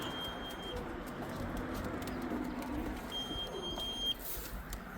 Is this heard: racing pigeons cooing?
yes